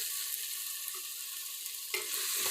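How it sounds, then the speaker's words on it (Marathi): Onion, tomato, peanuts and coriander sautéing in oil for a pressure-cooker khichdi, giving a steady close sizzle with a brief scrape of stirring near the end and no voices. "आणि तेलावरती चांगलं परतून घ्या"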